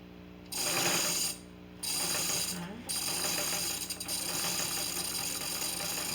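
A dressmaker sewing machine runs in bursts, stitching fabric with a fast mechanical whirring and clatter that stops and restarts several times, close by and fairly loud.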